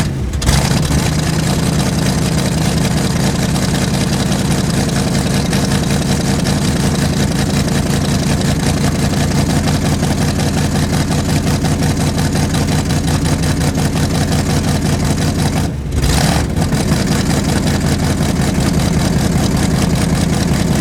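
A 1974 Dodge W100 pickup truck engine, cold, runs loud and raspy through cheap mufflers, holding a steady rev with one brief dip before roaring on.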